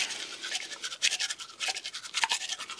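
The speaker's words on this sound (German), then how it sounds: "Das ist natürlich Eli seine Zahnbürste" A Weimaraner's teeth are brushed with a toothbrush, giving close, rhythmic scrubbing strokes in quick repeated bursts of bristly friction, steady and alone.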